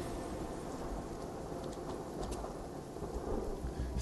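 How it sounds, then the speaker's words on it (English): Dense rain pours steadily with deep rumbling thunder underneath, a constant wash of sound and no voices. "It's raining a lot here."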